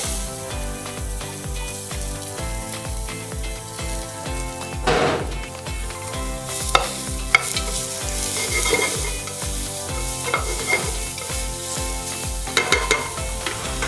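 Steady sizzling and crackling of onions frying in a pan, with occasional scraping and stirring sounds, under a repeating musical beat.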